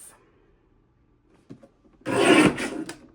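A paper trimmer slicing through cardstock: a faint tap, then one firm, close rasping cut lasting about half a second, with a brief trailing scrape.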